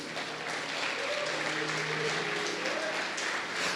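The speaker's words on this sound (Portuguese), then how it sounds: "Pode aplaudir o Senhor Jesus?" A church congregation claps during a communion service, a dense wash of applause with a faint voice or music tone running underneath.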